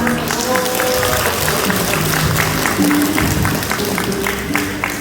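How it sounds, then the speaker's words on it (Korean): Applause from an elderly community feast audience welcoming guests, a moderate steady patter of clapping mixed with crowd murmur and brief voices. "소개드릴 때마다 뜨거운 박수로 환영해 주시기 바랍니다."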